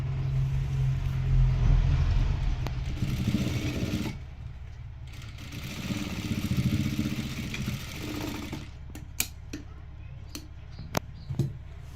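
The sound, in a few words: sewing machine stitching lehenga border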